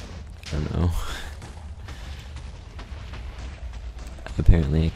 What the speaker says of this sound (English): Apparently I can't turn his explosion sounds down with the hostile mobs.